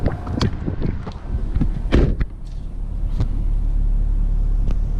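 Car cruising on a long road trip highway, steady low road rumble and engine drone inside the cabin, with a few knocks and thumps early on before settling into constant noise.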